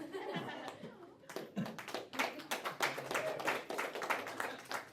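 Scattered clapping from a small crowd, brief and uneven, mixed with some chuckles and voices.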